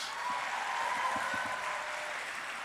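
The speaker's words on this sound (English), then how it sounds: "you should clap to those who are very honored on the stage" An audience claps at an on-stage event, a steady wash of applause heard from a distance that holds evenly throughout.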